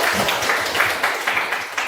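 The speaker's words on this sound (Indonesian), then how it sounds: "Tepuk tangan untuk" Applause from a classroom audience at a Christian youth lesson, a steady wash of many hands clapping at moderate loudness with no talk over it.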